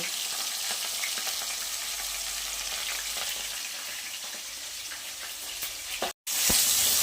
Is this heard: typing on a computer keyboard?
no